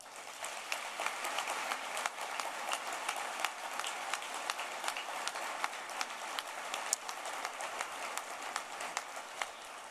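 Sustained applause from an audience at a civic leadership gathering in downtown Atlanta, steady dense clapping with sharp individual claps standing out, continuous for the full stretch at moderate loudness with no talk over it.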